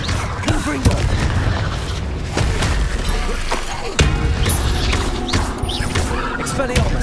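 Booming explosions from the Confringo blasting spell in Hogwarts Legacy crash through a chaotic combat scene, several loud impacts mixed with clattering effects while voices shout over the fight.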